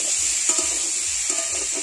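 Fish and taro curry sizzles in a pan while being stir-fried, a short stretch of even hissing with a few soft stirring clicks, close and without talk.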